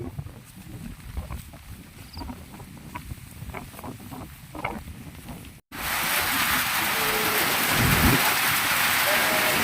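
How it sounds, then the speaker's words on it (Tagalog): Heavy rain pours steadily on a farm field of crops, a dense hissing wash; lighter patter and scattered thumps come first, then a sudden loud downpour takes over. "Ulan, lakas na naman ng ulan."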